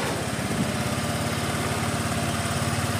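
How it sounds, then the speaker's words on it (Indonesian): A fuel-injected motorcycle engine idles steadily and close by after starting, with a low, even chugging pulse that runs unbroken throughout. "motor kita nyalakan"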